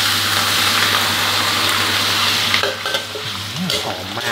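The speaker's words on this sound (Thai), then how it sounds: "ผัดให้กระหล่ำปลีคลุกกับน้ำปลารอบๆครับ" Cabbage is stir-fried with fish sauce in a hot pan, making a loud, dense sizzle throughout that thins out toward the end as stirring clinks and scrapes break through.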